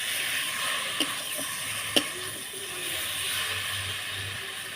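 Spice paste sautés with fried vegetables in a pan for a Bengali Sorputi fish curry, a steady close sizzle and hiss with a couple of sharp spoon clicks against the pan.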